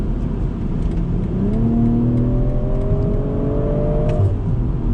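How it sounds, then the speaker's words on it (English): A BMW M340i with an 8-speed automatic revs hard, its engine note climbing through several rising sweeps as gears change, loud and close with no talk over it. "It's an 8-speed automatic, but I'm telling you right now, it shifts with authority, especially on the downshifts."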